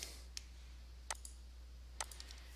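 Three crisp, faint computer mouse clicks sound alone at spaced intervals in a quiet room over a low steady hum.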